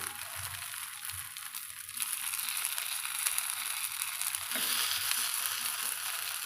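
Kuzhi paniyaram made with drumstick leaves fry in oil in a paniyaram pan, giving a continuous broadband sizzle that swells slightly as the pieces are turned, steady and close.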